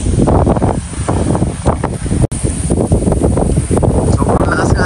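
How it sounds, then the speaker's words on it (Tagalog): Strong wind gusting outdoors in an open field near cattle, roaring steadily into the microphone with loud buffeting throughout, while people talk underneath. "Sobrang lakas nga ng hangin dito."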